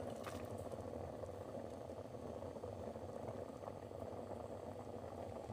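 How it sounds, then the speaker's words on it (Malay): Rice simmers in a rice cooker, a soft, continuous bubbling that stays quiet and even, with no voices. "Nasi kita dah mendidih sedikit ya."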